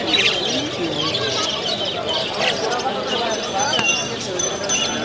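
Small birds chirp and tweet at a busy bird market in Khulna, thin calls scattered through steady crowd chatter and people talking nearby.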